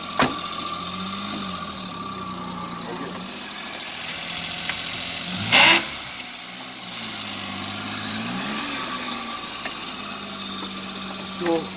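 The engine of a Maruti Alto 800 car runs at a low, steady pitch and rises gently twice as the car eases back and forth, with voices talking over it.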